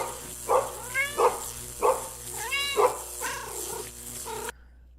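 A pet cat meows about six times in a row, each call rising and falling, fairly close and clear, with a steady faint hum underneath and no one speaking.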